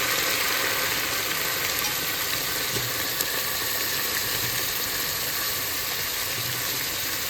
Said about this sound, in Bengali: এই সবজিগুলো একটু ভাজা হতে থাক।